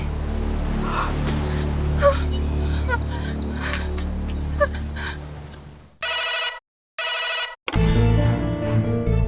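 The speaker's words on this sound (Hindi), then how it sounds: "अच्छा वो महर, तूने फोन कर लिया हमें" Two short bursts of telephone bell ringing cut in partway through a busy TV drama soundtrack, loud and close, followed by a sudden swell of background music.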